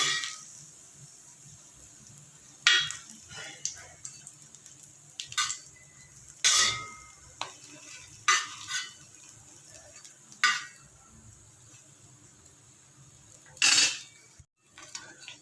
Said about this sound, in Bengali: এটা একদম লাল লাল করে ভেজে নিতে হবে